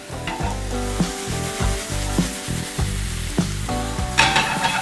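Bread frying in a pan with ginger, soy sauce and vinegar for a Chinese-style bread samosa, a steady loud sizzle with occasional stirring scrapes and clatter, no talking.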